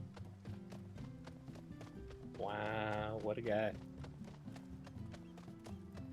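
A horse mount in the Final Fantasy XIV video game gives a loud whinny, followed by a rhythmic clip-clop of hooves, while a person talks over the scene.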